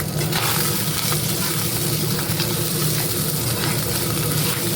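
Fish head frying in hot oil gives a steady, dense sizzle that fills the whole stretch at an even level, close by, with no talking.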